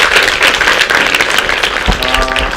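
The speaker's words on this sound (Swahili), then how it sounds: "Tumpigie Madam makofi." Applause at a reproductive health sensitization session for pre-teens, a steady patter of clapping from a gathered audience lasting a couple of seconds, with a voice briefly audible toward the end.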